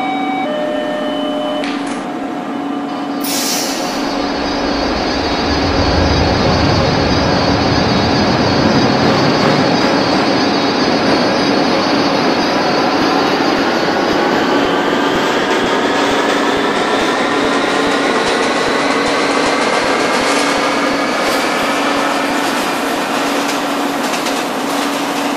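A New York City E local subway train in the OpenBVE train simulator game accelerates away with a rising electric motor whine and rumbling wheels, loud and continuous, with rising tones sweeping upward as it gains speed.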